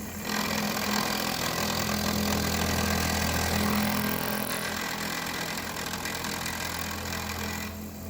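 A milling machine cutting an aluminum part in repeated passes, a steady loud whirring hum with a high whine that runs continuously for several seconds before stopping.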